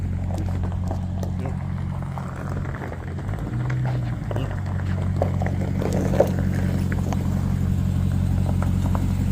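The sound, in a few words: Ram Tremor pickup truck backing up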